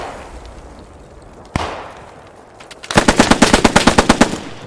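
Bren machine gun fire in the WWII shooter game Post Scriptum arrives as a rapid, loud burst of evenly spaced shots after a distant single bang, with low ambient rumble beforehand.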